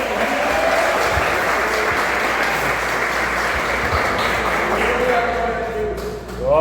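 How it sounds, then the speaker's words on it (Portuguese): Sustained applause from a church congregation at a Baptist youth service, dense and steady throughout, with a faint voice or tone rising briefly near the end. "Aplaude o Senhor."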